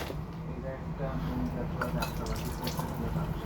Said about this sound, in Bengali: খেজুরগুলো ভালোভাবে ধুয়ে বাটিতে নিতে হবে